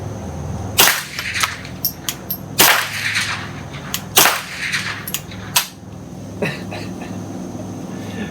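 Suppressed .22 LR rifle firing Federal bulk-pack supersonic ammunition at a range: several sharp, cracking shots spaced irregularly, each with a brief tail, fairly close and loud against a low background hum.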